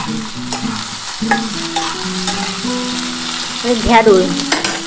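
Okra dropped into a pan of frying potatoes for a Bengali okra-potato-poppy-seed dish, bursting into loud, crackling sizzle with stirring scrapes and a few clinks of the spoon against the pan.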